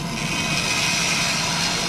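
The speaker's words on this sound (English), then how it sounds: "Use the bandsaw for this cut." A bandsaw cuts through wood for a phone stand, giving a loud, steady, close-up whir and rasp of the blade that runs without a break.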